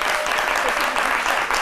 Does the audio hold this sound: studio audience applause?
yes